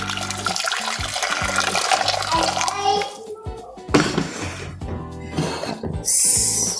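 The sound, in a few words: water poured into cooking pot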